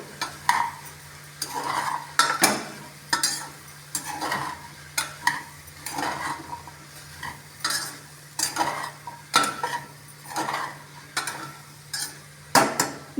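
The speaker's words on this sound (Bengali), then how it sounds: "দিয়ে দেওয়ার পর আবার আমি এটাকে মিশিয়ে দেবো মশলাটা যাতে সব এক জায়গায় ঠিকভাবে লাগে" Spiced vegetable curry of bottle gourd, carrot and potato being stirred in a pot, a spoon scraping and knocking in rhythmic strokes about once a second, close and loud with a light sizzle beneath.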